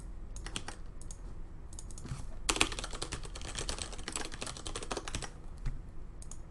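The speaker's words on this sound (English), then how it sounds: "I have to type in my password" Rapid, uneven keystrokes clatter on a computer keyboard as a password is typed, with a short pause, then a dense burst of clicking that thins out toward the end, close and clear with no talking.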